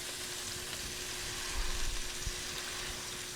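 Smash burger patties sizzle in a hot pan with a steady, close frying hiss, some low popping thumps swelling midway, and no talk.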